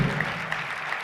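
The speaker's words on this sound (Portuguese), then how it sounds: "Uma salva de palmas" A brief, steady wash of audience applause after a talk, a dense continuous patter of clapping lasting about a second with no voices over it.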